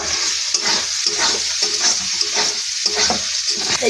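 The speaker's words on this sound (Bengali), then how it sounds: "ডিমটা দিয়ে এবার ভালো করে ভেজে নেব।" Egg frying for chow mein: loud, steady sizzling in a hot pan with rhythmic stirring scrapes repeating about every half second, no voices.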